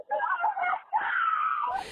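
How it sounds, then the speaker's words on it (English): Children screaming and wailing on a voicemail recording after their police officer father was shot, two long, loud, anguished cries with a brief break between, no talking. "His children's screams lasted for more than a minute."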